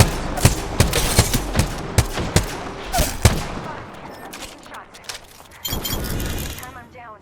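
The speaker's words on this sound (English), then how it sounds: "I am taking fire." Gunfire in the battle royale game Apex Legends: a rapid string of sharp, loud shots close by, some with a glassy crack, easing into scattered, fainter fire and a final noisy burst.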